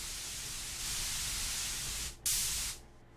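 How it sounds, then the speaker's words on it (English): A steady hiss of white noise from a MicroBrute synthesizer fills the air, shifting brighter partway through, then cutting out abruptly after a short louder burst. "So we got white noise, bright noise."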